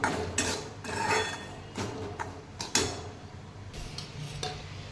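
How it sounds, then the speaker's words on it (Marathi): Roasted semolina being scraped from a wok onto a plate, with a few close, sharp clinks and scrapes of a metal spoon against the pan and dish over low background noise. "तर मी याला एका प्लेटमध्ये काढून घेते"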